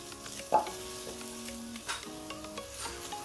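Chopped onion with ginger garlic paste fries in a kadai, a quiet, steady sizzle with faint stirring clinks and scrapes.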